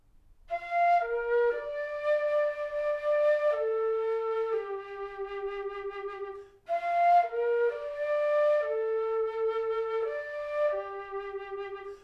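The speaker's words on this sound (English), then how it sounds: "it converts your flute into a chromatic low whistle" Flute fitted with a plastic Fliphead whistle mouthpiece, played as a chromatic low whistle: a breathy, pure-toned melodic phrase of sustained notes stepping downward, repeated twice with a brief pause between, played solo and clearly.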